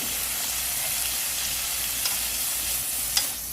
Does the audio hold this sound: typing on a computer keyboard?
no